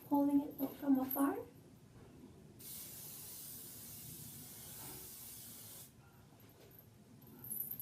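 Hair spray hisses from an aerosol can in one steady, continuous burst of about three seconds, close and fairly soft, after a moment of speech beforehand.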